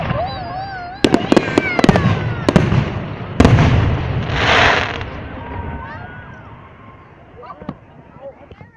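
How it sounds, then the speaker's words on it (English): Canada Day fireworks burst outdoors in a quick series of sharp cracks and booms followed by a crackling fizzle, then thinning out to scattered distant pops. "That was the Canada Day fireworks, which is July 1st"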